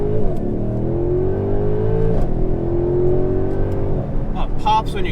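A Mercedes GLC63 AMG with full four-wheel drive accelerating hard, engine note climbing through gears with rising whine and shift breaks, ending in a burst of exhaust pops, loud from inside while someone talks.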